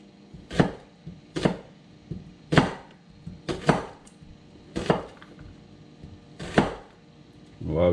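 A knife slices onions on a board in about eight distinct, close, irregularly spaced chops with quiet pauses between them.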